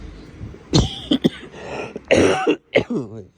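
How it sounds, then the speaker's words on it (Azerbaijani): A person coughs repeatedly in short harsh bursts with throat clearing between them, close and fairly loud, on a street in Uccle, Brussels. "Öskürürəm, xəstələmişəm."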